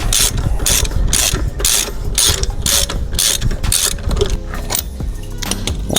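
A ratchet wrench tightens lug bolts on a Lexus IS F during a brake install, its rapid metallic clicking coming in loud, close bursts of repeated strokes.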